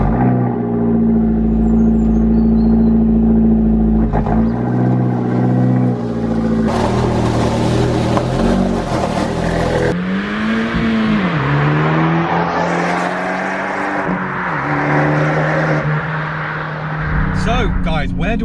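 Abarth 124 engine droning steadily from inside the car while driving, loud and continuous, its pitch rising and falling through shifts, with a voice speaking over it.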